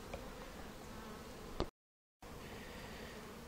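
Honey bees buzz steadily and closely at an apiary while summer splits are being made, a dense, even drone that cuts out briefly and then resumes.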